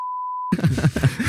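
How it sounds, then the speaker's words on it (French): A steady censor bleep tone holds for about half a second, then cuts off abruptly as a man's speech begins, voices carrying on to the end. "C'est beaucoup de bip, Loïc."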